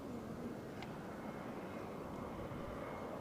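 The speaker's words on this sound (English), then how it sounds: "Oops, plane coming in." An airplane approaches to land at Barcelona El Prat airport, heard as a faint, steady distant roar blending into the background hum.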